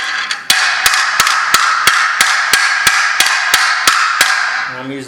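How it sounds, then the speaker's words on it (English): The sharp point of a hammer strikes a cooled piece of metal about a dozen times in a steady rhythm, each blow a loud, ringing clang that is close and clear. "I'm using the sharper point of the hammer."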